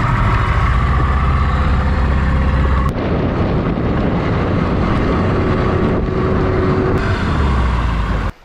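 A boat motor runs steadily off a tropical island, loud and constant with heavy wind buffeting the microphone, then cuts off abruptly at the end.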